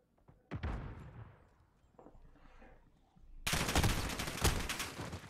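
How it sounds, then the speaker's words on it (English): A competitive shooter match erupts with a few scattered shots early on, then a sustained, loud barrage of rapid automatic gunfire fills the last two seconds. "Some shaky shots out of Viper."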